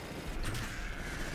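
Gunfire in the Halo video game, a dense, sustained barrage of shots with no pauses, steady and fairly loud throughout with no talking.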